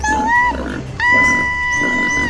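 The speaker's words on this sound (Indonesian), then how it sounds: "ternyata itu adalah babi hutan. Babi hutan, lari kawan-kawan!" A wild boar grunts and squeals in a forest at night, in a children's story set in the Meratus Mountains. Two loud, close bursts of grunting with harsh, tonal squeals.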